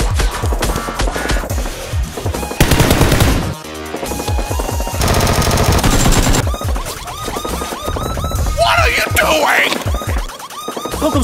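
X-Shot Nerf guns go off in rapid, rattling bursts during a staged fight, loud and dense for the whole stretch, with background music or effects layered over the shots.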